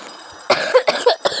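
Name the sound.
a person coughing, with a fever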